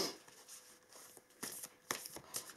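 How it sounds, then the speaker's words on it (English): Tarot cards are shuffled close up, a soft riffling with a few sharper flutters, quiet and alone. "I'm just going to shuffle those a little bit"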